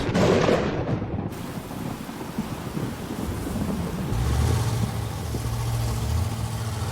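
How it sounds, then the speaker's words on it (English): Heavy, steady rain with a deep rumble of thunder rolling in partway through, loud and continuous with wind noise. "the rainy season arrived with a vengeance"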